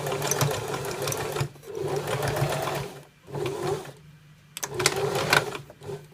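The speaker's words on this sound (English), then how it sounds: "You could sew on a long stitch or a regular stitch, it doesn't matter." A sewing machine stitches a fabric pleat in three runs of fast steady whirring, separated by short pauses, close and clear with no voices.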